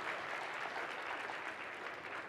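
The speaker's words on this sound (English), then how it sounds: "can we one more time give a round of applause for our Made for Praise Choir?" Church congregation applauding a children's choir, a dense steady wash of many hands clapping together, continuous and somewhat distant.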